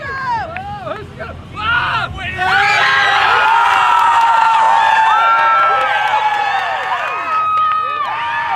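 A crowd at the Baja Brawl motocross Best Whip event cheers and shouts loudly and continuously, swelling after a couple of seconds while a commentator talks over it.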